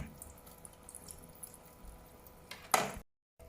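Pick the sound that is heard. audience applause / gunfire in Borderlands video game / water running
water running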